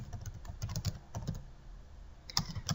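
Quiet, close typing of VBA code in Excel on a computer keyboard, bursts of rapid key clicks with short pauses.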